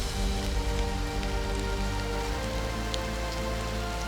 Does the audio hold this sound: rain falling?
yes